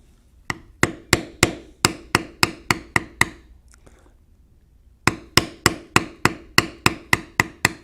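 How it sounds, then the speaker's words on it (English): A mallet strikes a 702 checkered beveler on tooled leather in steady, sharp close taps, about a dozen in a row, then a short pause before another even run of blows. "We'll now use the regular 702 checkered beveler to bevel around each of the feathers."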